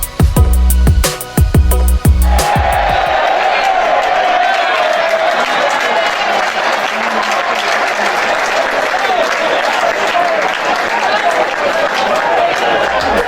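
A large football stadium crowd roars in sustained cheering and applause after a fan lands by parachute, a dense continuous wall of voices following a few sharp thuds at the start.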